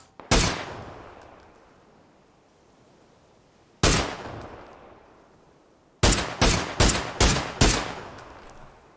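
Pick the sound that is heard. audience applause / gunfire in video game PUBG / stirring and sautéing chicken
gunfire in video game PUBG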